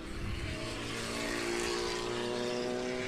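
Argo race car number 55 at a Group 3/6 road-racing grand prix, engine droning steadily at high revs with a continuous, fairly loud tone that holds throughout.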